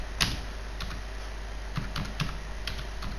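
Keys clatter on a computer keyboard while a comment line is typed into a C program, a few quick separate taps spread over a few seconds under a steady low hum, close and fairly soft.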